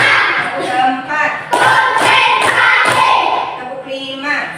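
A classroom of children clap their hands together in a short counted rhythm, a few sharp, fairly close claps spaced about half a second apart, mixed with children's voices.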